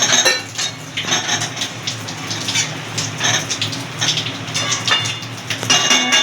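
Chicken rezala stirred in a pot, with a spoon clinking and scraping against the metal in an irregular rhythm, close and clear with no voices.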